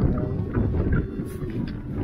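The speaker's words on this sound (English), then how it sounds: "It's windy, rainy, kind of cold." Gusty wind roars against the microphone on a steep, rainy mountain stretch of the Appalachian Trail, a loud low rumble that runs throughout with no voices.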